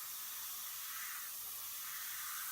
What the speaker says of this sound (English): I'm going to spray some white